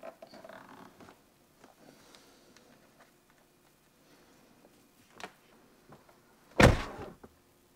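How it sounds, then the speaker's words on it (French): A Tesla Model Y door shuts with one solid, close thunk, preceded by several seconds of faint rustling and small clicks inside the car. "Et si je ferme la porte"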